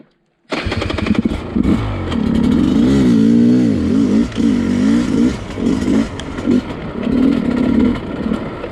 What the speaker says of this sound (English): Electric start seems like it's just slightly slower to fire up than the KTM one.